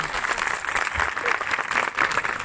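Church congregation clapping during a sermon, a dense steady patter of applause from a crowd that rises and falls slightly in waves, fairly close and continuous without voices standing out.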